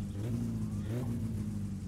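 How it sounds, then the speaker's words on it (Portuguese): A car engine idles steadily just after being started, a close, even low rumble with a slight rise in revs, with no talking. "Olha, o carro ficou ligado."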